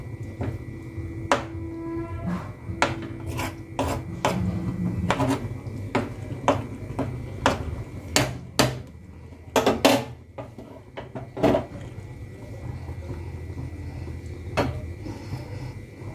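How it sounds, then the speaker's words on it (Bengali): Mustard, poppy seed and green chili paste being stirred into gravy in a wok, with repeated sharp metallic clinks and scrapes of a spatula against the pan over a low background hum, no voices. "এবার সর্ষে, পোস্ত আর কাঁচা লঙ্কা বাটাটা ভালোভাবে পুরো গ্রেভিটার মধ্যে মিশিয়ে নিচ্ছি।"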